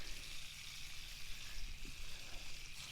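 Trout fillets, caught wild from mountain lakes, sizzle and spatter steadily in a pan, a continuous hissing fry held at moderate level throughout.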